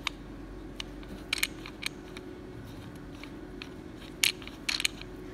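Mayfield horseshoe headrest being tightened with its star adapter, giving small mechanical clicks and ratcheting bursts over a steady low hum, close and fairly quiet, with no speech.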